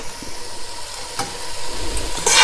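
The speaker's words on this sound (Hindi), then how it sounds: "अब आपने इन सब चीज़ों को एक साथ स्टर फ्राई करना है।" Chopped onions stir-frying in a pan for chicken chow mein, a steady close sizzle with scraping of a utensil and a brighter burst of frying near the end, no voices.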